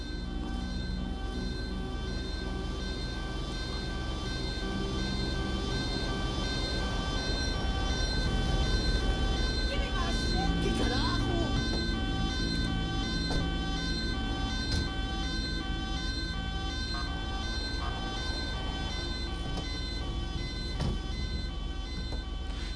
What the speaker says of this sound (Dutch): Graag een ambulance deze kant op voor het slachtoffer.